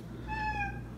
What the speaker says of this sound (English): cat wanted to say hi